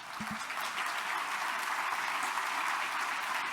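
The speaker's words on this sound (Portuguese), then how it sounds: "Os irmãos aqui estão aplaudindo porque aplaudimos a nosso Deus." A church congregation gives sustained, even applause, a dense wash of many hands clapping with no voices on top, moderately distant and steady.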